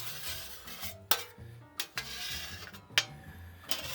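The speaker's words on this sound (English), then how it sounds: "we're going to scrape out any of this stuff into the bowl" A utensil scrapes cooked bits of grilled chicken and vegetables from a pan into a bowl outdoors, with several sharp metallic clinks and rasping scrapes set in a quiet, close-up scene.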